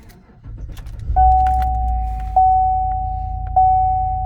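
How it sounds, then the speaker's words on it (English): A Chevrolet Silverado or GMC Sierra pickup's 5.3-liter engine cranks and fires up, settling into a steady idle, with a high whine and a couple of clicks or key jangles. "let's go ahead and turn the truck on"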